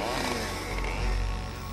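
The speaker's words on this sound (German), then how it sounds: "Crafts zerschneidet Hallys gefrorenen Körper mit der Kettensäge" A chainsaw, used as a sound effect in a crime audio drama, drones loudly and steadily throughout, a dense buzzing roar with slight surges and no pauses.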